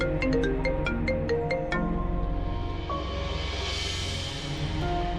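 Telephone ringtone of an incoming call sounding in a household scene from a Pakistani drama, a repeating electronic melody loud in the foreground over a steady musical background, with no talking.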